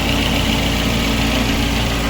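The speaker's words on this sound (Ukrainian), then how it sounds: "Жужить печка." A car engine idles steadily up close, loud and unbroken, with the cabin heater fan buzzing over it; the engine has worn piston rings and is due for a rebuild.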